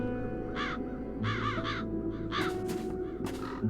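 Several crows caw in the fantasy adventure game The Dark Eye: Chains of Satinav, harsh calls coming in short separate bursts over a steady low ambient hum, with no voices.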